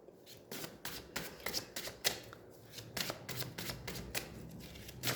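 A deck of tarot cards being shuffled by hand, with crisp riffling bursts and slaps in a steady, uneven rhythm, close and fairly quiet, with no voices.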